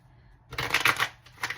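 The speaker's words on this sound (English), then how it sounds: "Just going to shuffle one more time." A deck of cards riffled and shuffled up close, a crisp burst of flutters followed by a shorter second riffle, no voices.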